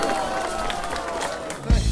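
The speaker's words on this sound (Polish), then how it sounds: "Gorące brawa w takim razie!" An audience applauds with dense, steady clapping and crowd noise throughout, with a louder thump near the end.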